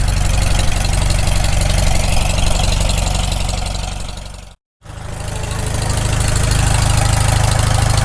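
A rebuilt Farmall Super M tractor engine idles outdoors with a loud, steady low chugging beat, interrupted by a brief cut of silence midway before continuing.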